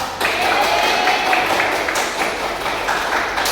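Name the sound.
classroom applause for students who answered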